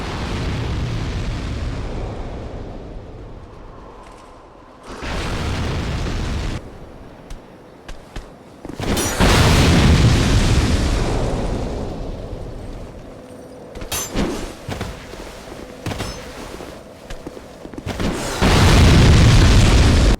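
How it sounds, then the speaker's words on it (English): Explosive barrels blow up in the Lost Bastille area of the video game Dark Souls II, giving several heavy, rumbling booms in separate bursts with rough roaring tails between quieter stretches. "Lost Bastille, just like the Forest of Fallen Giants, is filled with explosive barrels."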